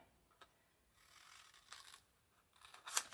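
Scissors snip through folded paper in a few soft, separate cuts with quiet pauses between them, ending on a sharper snip close by.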